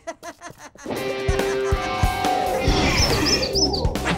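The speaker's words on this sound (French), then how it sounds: "Oh non, non, les oiseaux." Cartoon birds chirp and tweet in a busy, bright flutter of calls with some cooing, loud and close, over a dense animated soundtrack after a few short opening sounds.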